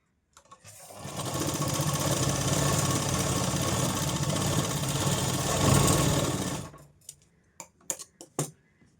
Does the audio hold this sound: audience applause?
no